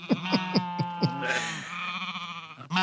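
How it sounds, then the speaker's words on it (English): Sheep bleat in a string of short, nasal calls followed by a longer wavering baa, close and clear with no talking over them. "I had to throw the sheep noises on there at the end"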